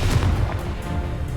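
A deep, booming blast from the Confringo explosion spell in a Harry Potter video game, a single short rumbling burst heard alone and filling the moment.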